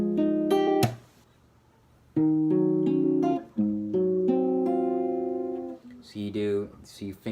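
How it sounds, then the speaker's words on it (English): Acoustic guitar fingerpicking a chord pattern for a song, close and clear, with plucked notes ringing in several phrases separated by brief pauses. "So you finger pick down, and then straight to the top."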